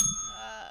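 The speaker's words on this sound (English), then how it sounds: "Ring the bell." One bright bell sound effect rings out during a talk show, ringing clearly at first and then fading across its short span.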